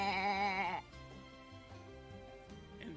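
A wavering bleat like a goat or sheep sounds loud and close at the start, then fades into low background tones.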